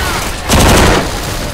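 Gunfire from the video game Left 4 Dead 2, a loud dense burst of rapid overlapping shots swelling midway through a short stretch of steady game noise.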